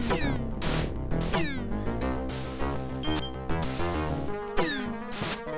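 A cat gives a run of repeated meows, several rising and falling calls spaced through the stretch over a busy tonal background.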